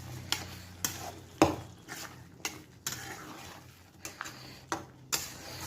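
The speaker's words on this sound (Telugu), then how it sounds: "మొత్తం ఒకసారి మిక్స్ చేసుకొని" Ridge gourd and chana dal curry stirred in a pan, a spoon scraping and clinking against the metal in irregular sharp taps over a low hum, close and fairly quiet, with no talking.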